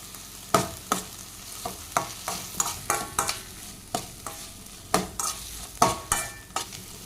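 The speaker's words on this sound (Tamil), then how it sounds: "இஞ்சி பூண்டு விழுது மல்லி புதினாலாம் ஆட் பண்ணி நல்லா வதக்குங்க" Tomato, ginger-garlic paste, coriander and mint sauté in a pan for a parotta-shop salna, steady sizzling under a regular run of spoon stirring knocks and scrapes, close with no talking.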